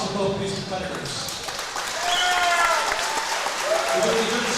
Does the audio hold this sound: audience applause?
yes